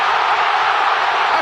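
A stadium crowd roars steadily in a FIFA video game match between Mexico and South Africa, a dense, loud, continuous cheer that fills the short moment without any clear break.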